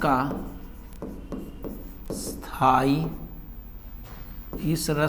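Chalk or a marker scratches and rubs across a board during a Hindi lesson, several short strokes in uneven bursts, close and clear, alternating with a teacher's speech.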